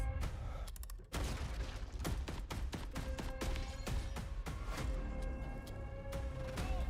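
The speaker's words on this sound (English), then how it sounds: "I like how the sound effect vibes with the guns." Rapid video game gunfire effects from a game trailer, dense bursts of shots and booms hitting in quick succession with a short gap near the start, loud and continuous over a music-like bed.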